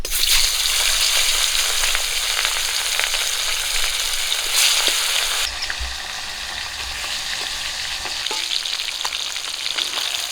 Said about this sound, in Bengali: একই রকম করে বাকি মাছগুলো ভেজে নেবো